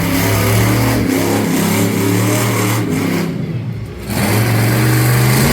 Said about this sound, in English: Here we go, Donuts. As he's going to spin it around.